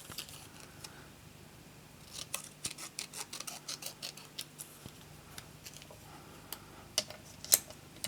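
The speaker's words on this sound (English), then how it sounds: "So let's just trim this down." Scissors trimming paper for a handmade card, a quiet series of crisp snipping cuts in short uneven bursts against a hushed background with no speech.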